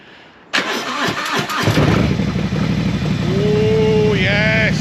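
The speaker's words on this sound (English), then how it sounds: "So it's time to fire up the Harley." A Harley-Davidson motorcycle cranks and fires up, the engine catching with a sudden loud burst and settling into a rumbling, throbbing idle close by; a whine-like tone rises briefly over the running engine.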